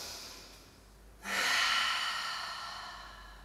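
One deep, slow breath taken close to the mic during a stretching exercise in a 30-minute workout, a soft airy exhale that rises and then trails off.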